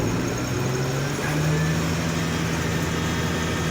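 A tractor engine with its PTO engaged for a mist blower rises from a steady idle to a higher, sustained drone partway through, close and constant, with no voices.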